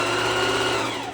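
A sewing machine runs continuously along a dress hem, a loud, close, even mechanical whir with a rapid needle rhythm throughout.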